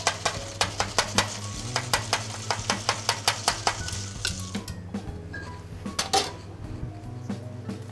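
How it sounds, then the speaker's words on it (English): A ginger mule of Plymouth Gin and ginger beer gets a quick stir, with a run of sharp, rhythmic clinks close up that slow and thin out toward the end, over a low steady hum. "Give it a quick stir."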